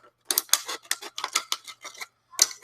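Scissors snipping around the neck of a plastic water bottle, a quick series of close, crisp cuts and crinkles in a steady rhythm with short pauses, no voices.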